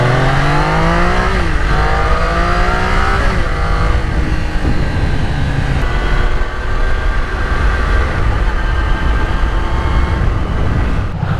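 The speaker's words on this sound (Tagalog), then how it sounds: "we will be test riding the Daytona 660" A Triumph Daytona 660 sportbike on a test ride, its engine droning loud and close with a rising whine as it accelerates through gears, then a steady, rushing roar as speed holds.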